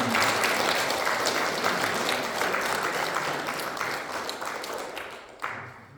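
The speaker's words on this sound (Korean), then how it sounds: "박수 부탁드리겠습니다" A church congregation at a Sunday worship service in Colorado Springs applauds the singers, with sustained, even clapping that thins and fades toward the end.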